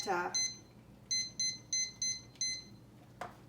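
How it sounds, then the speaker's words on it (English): A kitchen timer going off while pork chops and sweet potatoes bake, sounding a string of bright, evenly spaced electronic beeps in short bursts, close and clear, after a brief rising chirp at the start. "don't forget to set that timer so that"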